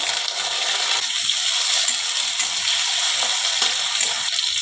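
Diced potatoes dropping into hot oil with whole cumin seeds and a torn bay leaf in a pan, giving a steady, close hissing sizzle with a bright crackle throughout, with no talking.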